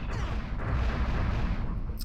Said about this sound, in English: So these things explode, and if you get caught in the explosion, you get sent into that little place